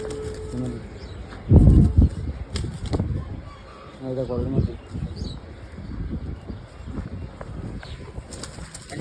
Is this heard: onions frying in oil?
no